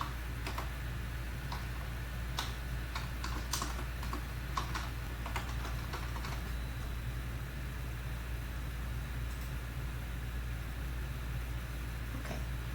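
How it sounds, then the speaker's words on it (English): Someone types a formula into a spreadsheet-style data tool on a computer keyboard: a run of quick, uneven key clicks in the first seven seconds and a few more near the end, all over a steady low hum of background noise. "Type the formula here."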